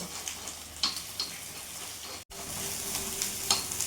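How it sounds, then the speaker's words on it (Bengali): An egg frying in a pan over a gas flame with a little salt, a steady close crackling sizzle with scattered sharp pops and a brief break partway through, no voices. "আর এই মাঝখানেই ডিমটা রেখে একটু ভাজা ভাজা করে নেব।"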